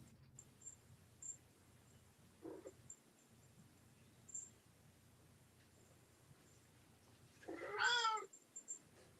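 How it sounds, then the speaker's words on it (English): A cat yells once in a loud, drawn-out cry near the end, above a faint background of crickets and a few soft, distant noises, with no talk. "Hear a cat yelling."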